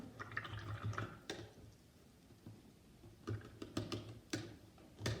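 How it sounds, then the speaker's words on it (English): Paintbrush rinsed in a water cup, with soft splashy swishes and drips followed by a few sharp taps against the container, close and fairly quiet. "Now we're gonna rinse out our brush again."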